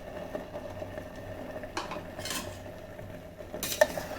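A spoon stirring corn flour slurry mixture in an electric kettle, soft scraping and clinking against the pot over a low simmering hiss, with a sharper metallic tap near the end.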